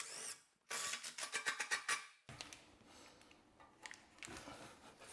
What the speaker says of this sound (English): now you just screw this straight into those mounting blocks